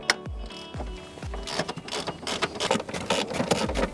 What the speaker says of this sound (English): Just remove the two front seat bolts with your 12mm socket and ratchet.